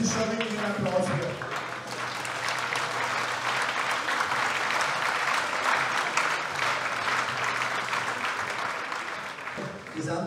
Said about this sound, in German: das ist schon wirklich ein Applaus hier